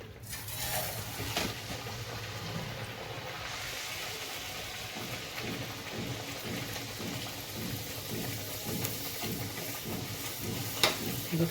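Mutton vadas frying in hot oil, a steady close sizzle and hiss with soft crackling bubbles throughout, no talking.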